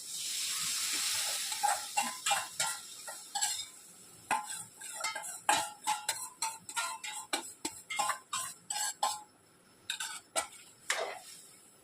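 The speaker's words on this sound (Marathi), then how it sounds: "डाळ मी रवीने घोटून घेतली चांगली. त्याच्यात ओतते." Whisked dal poured into a hot pan, a bright sizzling hiss at the start, then a long series of sharp, irregular spattering pops and crackles as it settles, close and with no talk.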